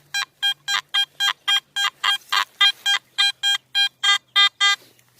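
Metal detector signal over a large cent coin buried deep in a hole: a rapid, even run of about sixteen short electronic beeps, loud and close, with no talking.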